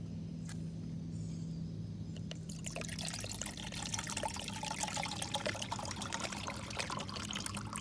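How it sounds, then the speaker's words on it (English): Water poured into a USGI canteen, starting quiet with a faint hum, then a steady close trickle and splash that runs continuously to the end. "First, let's pour the water in the canteen"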